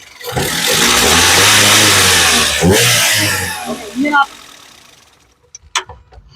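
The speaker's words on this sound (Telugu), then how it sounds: "ఇది పెట్రోల్ ఇంజన్ కాబట్టి ఇంజన్ యొక్క నాయిస్ చాలా అంటే చాలా సైలెంట్ గా అయితే ఉంటుంది" A 2011 Toyota Etios V petrol engine revs loudly and steadily up close, then drops away and settles toward quiet with a few light knocks at the end.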